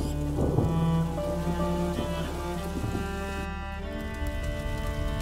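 Steady rain in the video game A Plague Tale: Innocence, a constant wash of falling water under layered ambient music, with no talk.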